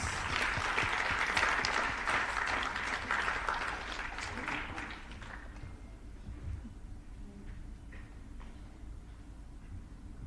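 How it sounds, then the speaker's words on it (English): Audience applause at a student innovation competition, a moderately loud round of clapping from a crowd that thins out and fades to scattered claps over about ten seconds. "A big round of applause."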